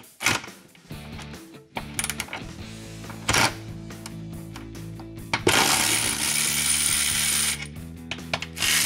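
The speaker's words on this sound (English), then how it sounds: "Break these bolts loose." A ratchet wrench clicks in quick bursts as bolts are broken loose beneath a transmission being supported during a clutch job on a 2011-2017 Mustang GT, with some metallic clanks; close and fairly loud, no talking.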